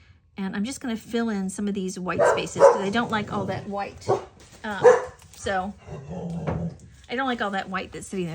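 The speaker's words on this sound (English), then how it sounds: "That is my dog barking, by the way." A pet dog barks somewhere in the house, short sharp barks mixed under a woman's steady, close talking.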